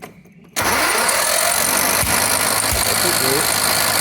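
A tractor engine with fuel problems cranks back to life after a difficult restart. It bursts in abruptly after near silence and keeps running loud and close with a rough, steady drone.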